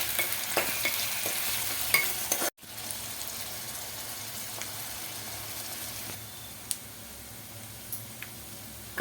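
Finely chopped onion frying in hot oil gives a soft, steady sizzle, punctuated by occasional clicks of stirring and a sharp break early on, heard close and fairly quiet.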